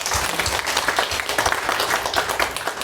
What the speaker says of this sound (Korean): 우리 하나님께 영광의 박수 한번 돌리겠습니다